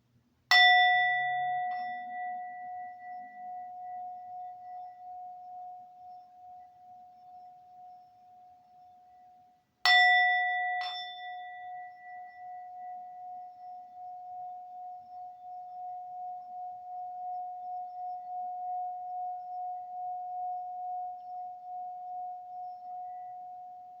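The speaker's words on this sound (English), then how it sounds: "I'm going to position the bowl to the right of the tablet, okay? Just to see how it sounds." A singing bowl struck for sound healing rings out twice, about ten seconds apart, each strike a clear bright tone that hums on and slowly fades, near and alone.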